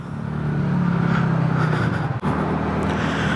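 A TVS Ntorq 150 scooter engine runs steadily as the ride begins, a close, continuous hum with a brief dip midway.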